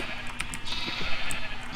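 Sheep bleat repeatedly in the Minecraft video game, several short calls overlapping at close range over a steady background hum.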